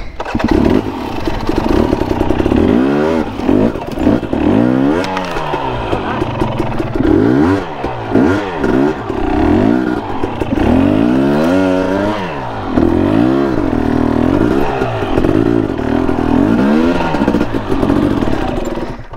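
Off-road motorcycle pushing through branches on a trail, engine revving up and down in repeated surges with clattering brush and twigs, loud and close throughout, with brief voices.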